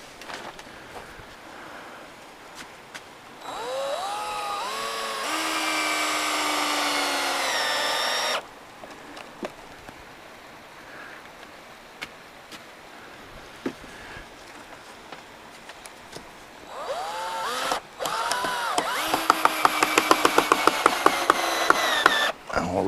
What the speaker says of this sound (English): I'm going to put a couple screws in that too, I think.